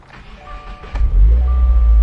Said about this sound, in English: when you go ahead and start it up